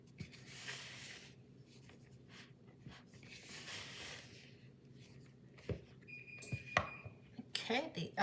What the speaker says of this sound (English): the oven just beeped